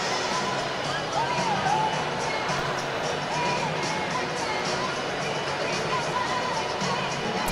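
A crowd gathered at an election-night event waiting for the next speakers, a dense continuous babble of many voices with scattered shouts and occasional cheers, steady and enveloping throughout.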